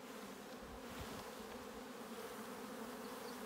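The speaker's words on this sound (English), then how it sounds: "So I'll shake these nurse bees off here, and what flies up in the air comes back to the box." Honey bees shaken off hive frames while making spring nucleus colonies rise into the air in a thick, continuous buzzing swarm, a close and steady drone with no voices.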